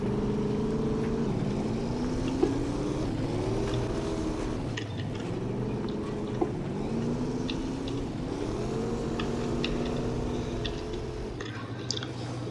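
An off-road truck engine drives steadily in the MudRunner game, a continuous low rumble whose pitch rises and falls with revving, with a few faint clunks on top.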